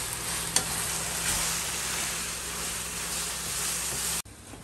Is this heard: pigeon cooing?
no